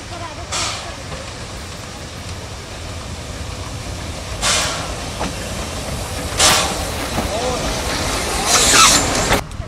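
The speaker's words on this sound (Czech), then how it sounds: "že doveze vás tam parní vlak" A steam train runs with a steady rumble under intermittent bursts of hissing steam, several sharp releases spaced through the clip, fairly close.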